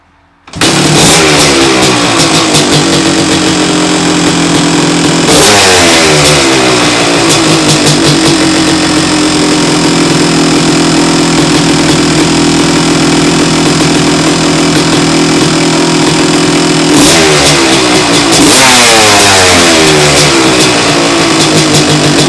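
A 1985 Kawasaki KX250 two-stroke dirt bike engine kicks into life and revs loudly and continuously at close range, with repeated throttle blips rising and falling over a steady, raspy idle.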